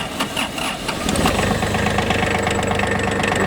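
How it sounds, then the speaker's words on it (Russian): Hinomoto CX19 three-cylinder mini tractor engine turns over, catches and settles into a steady, loud, close idle with an even knocking rhythm. "И все, трактор запустился и работает. Двигатель работает ровно."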